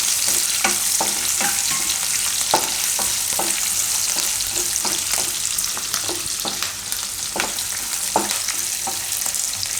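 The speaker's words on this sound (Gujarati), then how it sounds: "બધું આ રીતે થોડીક વાર તેલમાં ફેરવી લેવાનું." Cashews fried in hot oil for carrot and moong dal pulao, a continuous bright sizzle with steady crackle and periodic scraping stirs of a spoon in the pan, close and alone.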